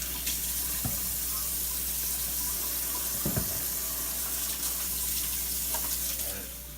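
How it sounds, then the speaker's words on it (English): Kitchen sink tap running steadily while hands are washed after handling raw meatballs: a constant, fairly quiet hiss of flowing water with a couple of brief clinks and splashes, no talking. "Just to wash my hands again so I don't spread cross contamination."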